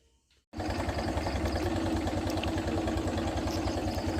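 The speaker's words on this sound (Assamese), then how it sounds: "আমাৰ এয়া বাইক চাইক উলিয়াওঁ আৰু বাইক উলিয়াই পেলাই গৈ থাকোঁ" After a brief quiet moment, a motorcycle engine abruptly starts and settles into a steady, close, even running drone that continues without talk as the bike is wheeled out at night.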